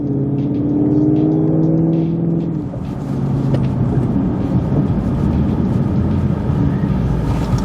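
A car driving between brake-pad bedding stops after fitting SP Performance pads and slotted rotors, its engine droning and shifting pitch early, then steady road and drivetrain rumble with mechanical whir throughout, close and continuous.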